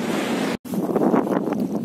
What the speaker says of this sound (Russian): Тасманское море.